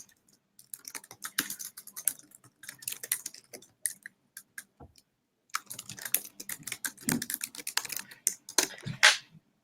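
Rapid typing on a computer keyboard, close and fairly loud, in two bursts of quick irregular key clicks separated by a short pause, with no talking over it.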